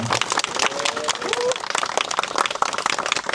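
Enthusiastic clapping from attendees at a Korean memorial ceremony for a fallen labor activist, dense and continuous throughout, with voices mixed in underneath.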